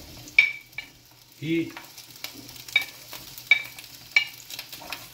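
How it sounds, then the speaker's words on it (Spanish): Rocoto, ají and onion sautéing in a pan for homemade uchucuta, heard as a soft, steady sizzle with several sharp clinks of a utensil against the pan spread through the stretch. "Vamos a poner el rocoto, ají, la cebolla para sofreír"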